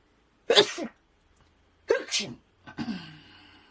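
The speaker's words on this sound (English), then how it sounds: "I'm going to sneeze." Three sharp sneezes burst out close by, separated by short silences, each a quick explosive rush of breath.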